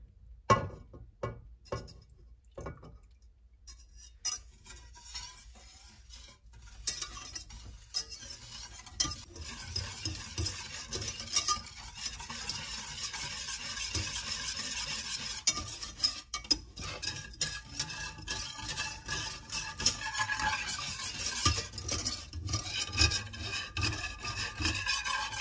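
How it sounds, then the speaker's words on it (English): Milk being slowly whisked into a mixture in an unheated pan, a steady scraping and stirring rasp that starts with sparse taps and builds into continuous close whisking, no one talking. "I'm just gonna slowly whisk in my milk without the burner on, just to mix all that stuff together."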